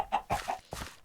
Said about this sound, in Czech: Tamhle je slepka, to mi moc nepomůže.